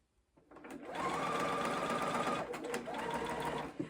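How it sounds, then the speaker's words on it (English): Sewing machine stitching quilt blocks, a steady close whirring hum with a rapid needle rhythm running continuously, briefly slowing before speeding up again. "just keep sewing straight over it"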